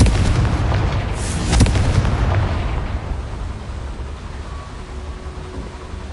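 Blasting spell explosion in a Hogwarts wizarding video game: a loud, sharp boom bursts out early, then rumbles and slowly fades into a long decaying tail of debris noise.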